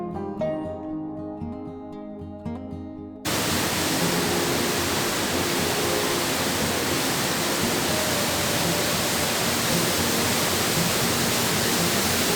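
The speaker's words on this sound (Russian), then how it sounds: "Водопад Сельяландфос – один из самых красивых и известных водопадов в Исландии." After a few seconds of soft music, Seljalandsfoss waterfall in Iceland bursts in, a loud continuous rush of falling water that holds steady to the end.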